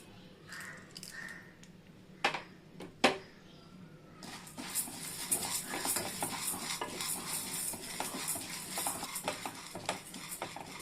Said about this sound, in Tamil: பருப்பு போட்டு வறுத்துக்கலாம்.